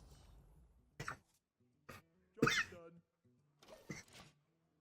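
Several short, harsh coughs burst out one after another at irregular gaps, close and fairly loud over a faint background, like a person caught in a coughing fit.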